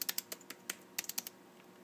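Typing on a white MacBook keyboard: a quick, uneven run of about a dozen soft key clicks, close and fairly quiet, with no talk over it.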